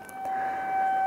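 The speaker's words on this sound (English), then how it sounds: "sirens going off" Sirens go off outside during a blizzard: a brief, steady, moderately loud tone that holds at one pitch for about a second.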